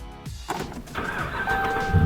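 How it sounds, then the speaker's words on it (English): A Dodge Ram truck's engine cranks briefly and catches, then settles into a steady close-up idle, with no voices. "An obliterated key fob still started the engine"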